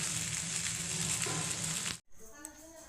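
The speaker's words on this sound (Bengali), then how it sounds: "এই যে ম্যাগিগুলো সব দিয়েছি, ভালো করে এবার নেড়ে নেব।" Maggi instant noodles being stirred in a hot pan, a steady broadband sizzle with scraping of the spoon running close and loud for two seconds before cutting off abruptly to quieter kitchen sound.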